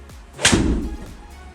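A golf ball is struck with an 8 iron on a course, one crisp close impact followed by a brief fading whoosh, with quiet outdoor ambience around it.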